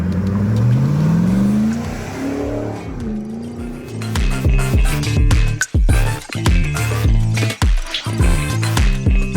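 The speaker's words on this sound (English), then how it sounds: "powered by our GM 450 horsepower LT1 engine with 8-speed automatic" A restored Land Rover Defender 110 with a GM 450-horsepower LT1 V8 and 8-speed automatic revs loudly and close, its engine note rising and falling through repeated throttle blips with some tire noise, no voices.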